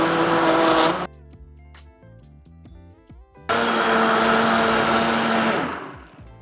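A blender whirs loudly through chili spiced butternut squash soup with vegetable stock, running in a burst for about a second, pausing amid clinks and handling noises, then whirring again for a few seconds before winding down.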